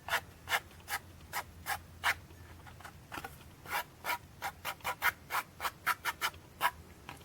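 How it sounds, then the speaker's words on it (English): Light brush strokes sweep embossing powder outward across a craft surface, a steady run of soft, close scratchy swishes about twice a second, alone with no talking. "I'm going to just kind of lightly brush away from the center so that it blends nice and smoothly"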